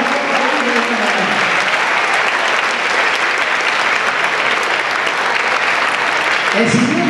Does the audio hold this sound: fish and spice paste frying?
no